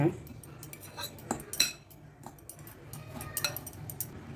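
Bread slices being mixed with milk in a bowl, with scattered clinks and scrapes of a metal spoon against the dish, close and fairly quiet, with no talking.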